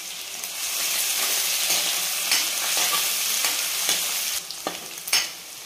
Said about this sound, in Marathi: आपल्याला कांदा परतून घ्यायचा 1 ते 2 मिनिट